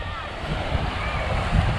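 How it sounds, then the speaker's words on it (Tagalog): Ocean surf rolls onto Baseco Beach in a steady, loud wash of breaking waves, with wind buffeting the microphone and a voice faintly underneath. "tingnan nyo yung alon, di ba?"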